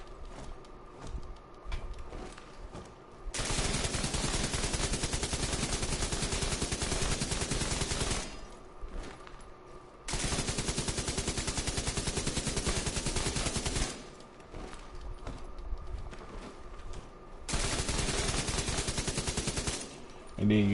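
Light machine gun fire in Division 2 with a double LMG setup, long sustained automatic bursts that run for several seconds each, loud and close, separated by short pauses.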